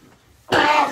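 A woman coughs hard after swallowing a mint: one sudden, loud, close-up burst of harsh coughing that cuts through a quiet room.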